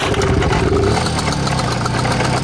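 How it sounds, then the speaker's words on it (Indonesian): A cartoon car engine from SpongeBob runs with a loud, continuous rumbling drone that shifts slightly in pitch, heard alone without voices. "Nyalakan mesin."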